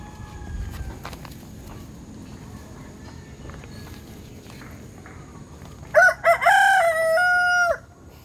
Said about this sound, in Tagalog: Kaya ka tumitilaok.